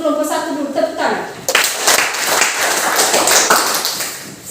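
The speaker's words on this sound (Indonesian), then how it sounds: "Untuk kelompok 1 dulu, tepuk tangan." A classroom claps for the first student group in a Christian religious education lesson, a burst of quick, close hand claps that starts abruptly after a brief spoken line and keeps going to the end.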